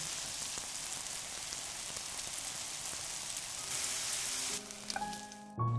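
Tofu pieces frying in oil in a pan hiss with a steady, dense sizzle that swells briefly louder near the end, with a few clinks and a sudden cutoff as the pan is handled.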